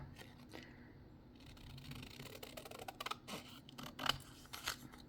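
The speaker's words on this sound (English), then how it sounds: "I am going to cut the rest out with scissors." Quiet close snipping and scraping of scissors through paper, a few crisp cuts growing louder toward the end.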